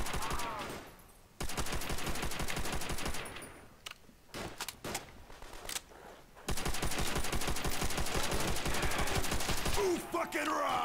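BAR rifle fire in a custom zombies shooter game, long sustained automatic bursts broken by short pauses, loud and close, with other gunfire sounds between the bursts.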